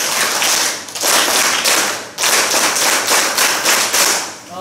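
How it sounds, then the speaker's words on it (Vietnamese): Dense bursts of hand clapping from a group, coming in several waves with short dips between them, loud and close. "Hãy vỗ tay khen anh hai một chồng"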